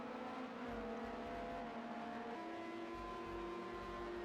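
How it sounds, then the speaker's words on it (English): LMP2 prototype race cars in a racing video game at the Algarve circuit, engines screaming with steady high-pitched drone and a pitch shift midway as revs change, continuous and loud with no talk. "You can hear these cars screaming."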